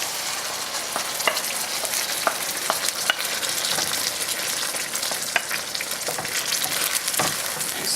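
Onion frying in a pan as tomato sauce goes in, a steady broadband sizzle with scattered clicks and scrapes of stirring throughout, fairly close and with no talking.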